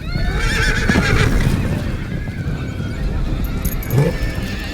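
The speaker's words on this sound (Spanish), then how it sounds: "Sus pequeños caballos son los más duros y resistentes del mundo" Mongolian horses whinny loudly and repeatedly over a steady bed of hoof clip-clops, with no voices.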